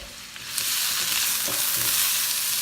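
Thinly sliced onions sizzling in olive oil in a pan, cooking toward caramelized, a close, steady hiss that swells in after a quiet start and holds with light stirring crackles.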